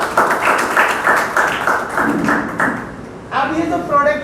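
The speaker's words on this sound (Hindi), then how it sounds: "एक बार दोबारा से तालियां सर के लिए।" Applause from an audience at a Modicare business performance meeting in Nokha, steady clapping rising and falling over about four seconds, with someone talking loudly over it.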